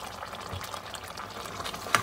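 Mutton frying in a small amount of oil in a karahi, a steady soft sizzle with occasional stirring scrapes and a sharper clink near the end, heard alone at close range.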